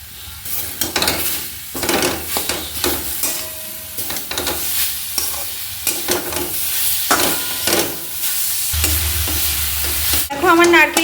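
Coconut filling stirred with sugarcane jaggery in a pan of white oil, a steady sizzle and hiss of frying under repeated scraping strokes of the spoon, close and fairly loud, with a brief clatter near the end.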